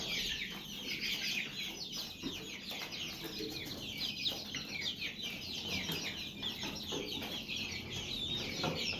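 Chicks and hens on a farm cluck and cheep continuously throughout, a busy mix of high-pitched peeping and soft clucks at moderate distance with no talking.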